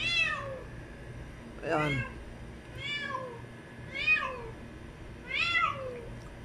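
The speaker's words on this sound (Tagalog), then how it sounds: "Isang stray cat po nasa taas ng bubong ng bahay." A stray cat perched on a house roof meows repeatedly, with five distinct rising-and-falling calls spaced about a second apart, moderately close, while a person speaks briefly near the start.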